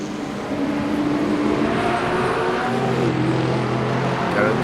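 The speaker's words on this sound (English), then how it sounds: "another couple of hypercars are coming by" Hypercars sweep past during the 6 Hours of Imola in Le Mans Ultimate, with loud engine drones rising and shifting in pitch as the cars pass close by, layered over a steady rumble.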